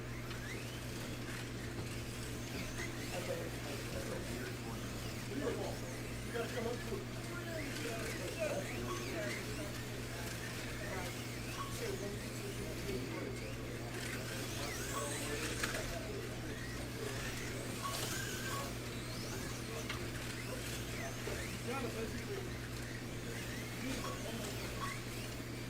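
Small 1/32nd scale slot cars, including BMW and Nissan models, race around the Motown Raceway track with a steady electric whine and rattle. Voices chatter nearby throughout.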